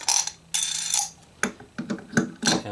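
A small bridge pin puller is twisted to free a stuck bridge pin from a Martin acoustic guitar, giving a close series of short scraping, clicking bursts in uneven rhythm.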